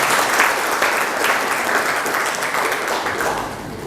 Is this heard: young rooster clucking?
no